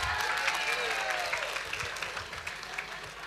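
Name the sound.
audience clapping in agreement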